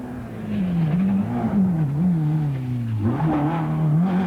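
Rally car, an old Ford Escort at the 1992 Donegal International Rally, swings through a chicane on the handbrake, its engine note rising and falling steadily with a brief dip and rev-up near the end, loud and close.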